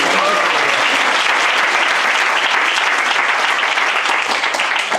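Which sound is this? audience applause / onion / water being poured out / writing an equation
audience applause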